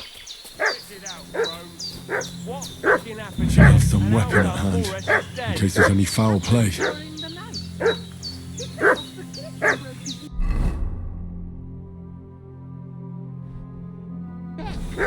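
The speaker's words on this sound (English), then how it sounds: "What's that dog making such a fuss about?" A dog barks and yips repeatedly in a medieval village setting in Kingdom Come: Deliverance II, with sharp, fairly close barks that come in bursts under a man's speech, then fall quiet.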